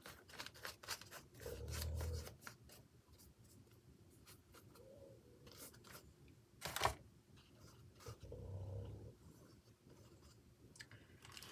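Faint snips of scissors cutting the corner of a newspaper picture for a papercraft collage, a few soft crisp cuts and rustles close by in a quiet room with no talk.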